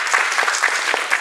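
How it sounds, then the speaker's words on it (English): An audience at an opening ceremony gives brief, dense applause, a continuous wash of many hands clapping from across a room. "We really deserve a big applause to ourselves."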